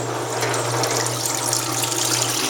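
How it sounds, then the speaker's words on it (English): Water streams steadily out of laundry as a wringer washer squeezes it, a continuous close splashing and gurgling rush with a low mechanical hum beneath, no talking. "Look at that water squeezing out of it."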